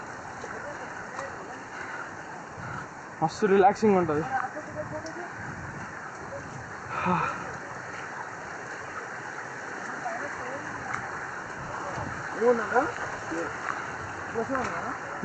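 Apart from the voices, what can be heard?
waterfall and flowing water on a monsoon trek in Maharashtra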